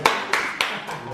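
Several hands clap in short bursts at a dinner gathering, four sharp broadband hits spaced a few tenths of a second apart, close and moderately loud over a busy room background.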